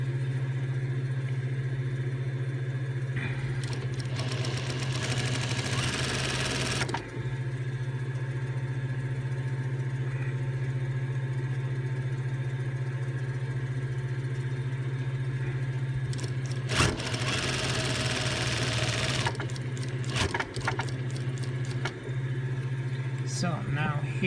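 A sewing machine back tacks along a bag seam, running in two short motorized bursts over a steady low hum, with a person talking throughout.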